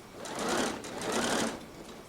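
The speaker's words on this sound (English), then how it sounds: "And I'm sewing all the way around" A sewing machine runs while stitching fabric around the edges of a ruffle dress, a close, steady whirring hum that swells in two brief runs.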